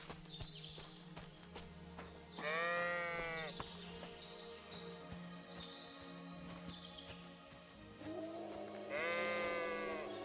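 Sheep in the video game Kingdom Come: Deliverance II bleat in two clear, wavering calls, one early and one near the end, over soft game ambience, footsteps and background music.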